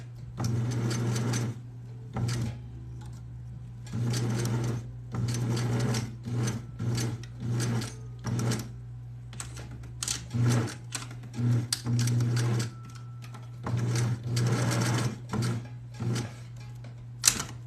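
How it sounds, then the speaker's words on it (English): A sewing machine stitches fabric for a bikini top, whirring in repeated short bursts with brief stops between runs, close and clear. "Reverse stitch. Pull the needle up, pull it out a smidge."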